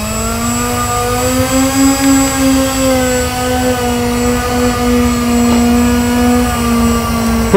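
A Canberra jet aircraft's engines run steadily before takeoff, a loud sustained whine with rising tonal harmonics over a rumbling low roar, continuous throughout without speech.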